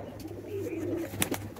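Malvai pigeons coo softly nearby, a low rolling call with a few faint flutters and clicks, quiet over a steady background hum.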